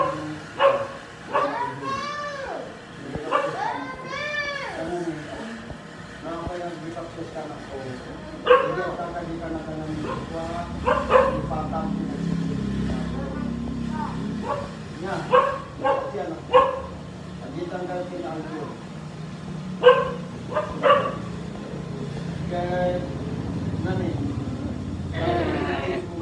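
A dog barks in short repeated bursts, with whimpering yips in between, while several people talk over it at a religious gathering.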